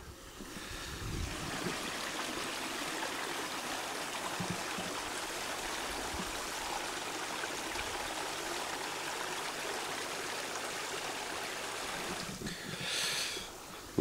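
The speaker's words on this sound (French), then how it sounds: "une petite rivière où il y a une petite cascade" A small river spills over a little waterfall, a steady close rush of water that fills the whole stretch without voices, swelling briefly near the end.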